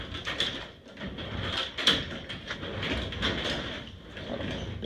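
A stuck garage door scrapes and rattles in a steady, mechanical grind with a sharp clunk near the middle, moderately close and without speech.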